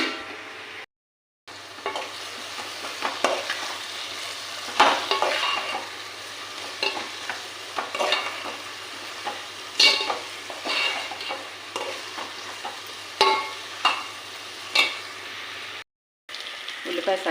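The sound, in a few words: onions frying and being stirred in a pan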